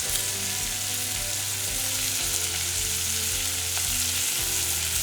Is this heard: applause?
no